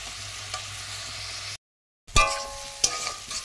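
Pieces of mankochu, a giant taro, fry in a pan with a little tamarind. A close, even sizzle runs for a second and a half, cuts out briefly, then returns with a few sharp clinks of a utensil.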